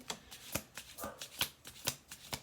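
A few quick card shuffles close up, crisp papery snaps coming in a steady rhythm with nobody speaking.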